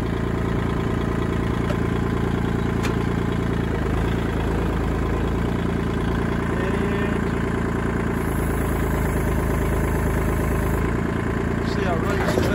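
Kubota L2501 tractor engine running loud and close as it lifts a heavy log, a continuous chugging diesel drone with steady rhythm throughout.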